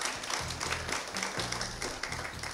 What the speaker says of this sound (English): A round of applause for Ambassador Sileshi